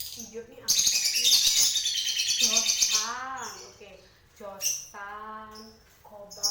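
Green lovebirds chirp in bursts of sharp, shrill tweets and rising whistled calls, close and fairly loud, with short pauses between phrases and no voices.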